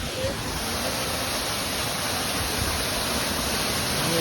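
A hidden waterfall pours in a constant, dense roar of falling water, loud and close, with no breaks or other sounds standing out.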